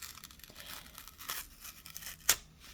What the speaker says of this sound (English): you can cut this piece apart, you can tear it apart